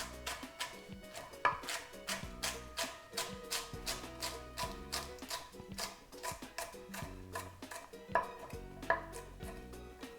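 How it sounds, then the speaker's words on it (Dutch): Quick, rhythmic knife chopping of celery on a cutting board, with close, crisp taps in a steady run and no talking. "Nou, dan gaan we gewoon even lekker fijn snijden."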